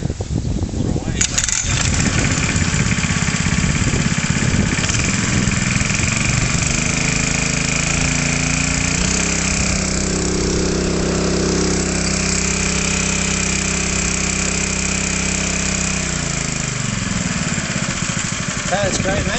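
A Slatts portable pump's petrol engine idles steadily after being started, a continuous close-up drone with a throttle change near the start and a slight shift in pitch later, while people talk briefly over it.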